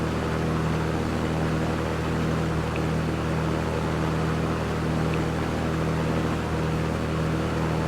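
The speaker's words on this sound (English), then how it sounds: "I'll adjust the prop setting, the mixture, and the throttle for cruise." Pipistrel Panthera propeller aircraft engine at cruise, heard as a steady, loud, unbroken drone with a constant low hum and broadband rush from start to finish.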